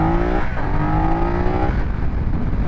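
A 2022 BMW F900R naked sports motorcycle ridden through town, its engine droning loud and close with a steady hum that rises in pitch, dips briefly, then climbs again.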